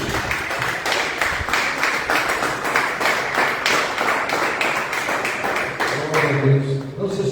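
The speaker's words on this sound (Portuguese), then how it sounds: "Vamos aplaudir o Senhor Jesus." A church congregation claps together in a steady, dense burst that carries on loud and close throughout, with a faint voice rising near the end.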